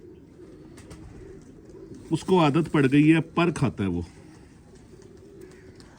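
A pigeon coos in a short burst of soft, throaty calls, with someone speaking in the clip over quiet background hiss.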